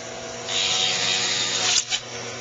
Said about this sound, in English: The Dremel tool is just like a pen